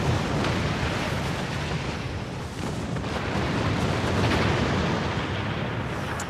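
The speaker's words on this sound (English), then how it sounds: "we got caught in that explosion" A starship explosion in the video game Star Trek Online gives a sustained, dense roar of crackling blast noise, loud and continuous with no talk.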